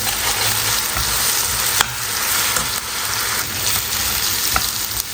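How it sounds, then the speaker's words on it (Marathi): Ginger garlic paste frying and being stirred with onions in a pan for chole palak, a loud continuous close sizzle with occasional scraping strokes of the spoon, no voices. "यामध्ये आपण लसूण आल्याची जी पेस्ट आहे ती ॲड करणार आहोत आणि परत एक दोन मिनटं आपण हे मिक्स करून घेणार आहोत"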